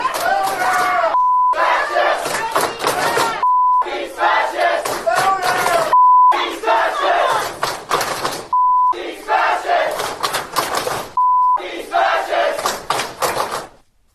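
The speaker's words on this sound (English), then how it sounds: "Here is a group of college students universally clapping and chanting as Jeff Younger there" A crowd of college students at a University of North Texas protest claps and chants loudly in a steady rhythm, with the chant repeatedly cut by short electronic bleeps.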